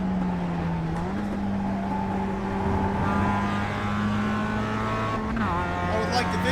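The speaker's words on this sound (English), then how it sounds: "He got into the throttle a little too quick." Race car engine in the iRacing sim racing game holding a steady high drone, with the pitch dipping and climbing as the throttle and gears change, loud and continuous under commentary.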